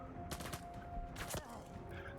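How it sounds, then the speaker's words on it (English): Shotgun blasts from a VR shooter game, a few sharp broadband reports about a second apart over steady game background, moderately loud. "Oh, it's a shotgun."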